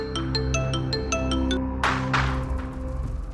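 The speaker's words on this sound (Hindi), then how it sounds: "आपका फोन बज रहा है।" A mobile phone rings with a repeating melodic pattern of bright tones, clear and steady for a moment before it cuts off and a few sharp noisy thumps follow, with no talk.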